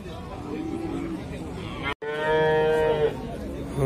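Dairy cows at a busy livestock market, one lowing in a loud, long, steady moo near at hand over a constant background of crowd chatter and market noise.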